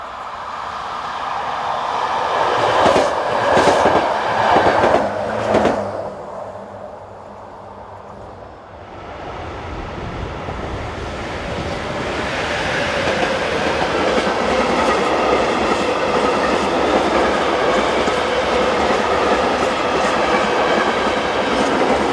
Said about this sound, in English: Immediately after, it is passed by electric loco number 2834.